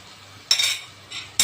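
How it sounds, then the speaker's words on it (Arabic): Utensil stirring egg and potato omelette ingredients together in a pan or bowl: three short scraping, clinking strokes, close and moderately loud, with no talk. "هقلب بقى كل المكونات في بعضها"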